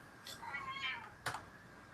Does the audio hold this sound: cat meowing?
yes